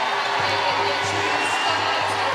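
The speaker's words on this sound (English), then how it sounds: "They've all stayed in, these fans," Netball fans in a packed arena cheering and applauding Zimbabwe's team, the Gems, as they leave the court; a dense, steady crowd roar fills the space with scattered faint shouts and a low background hum.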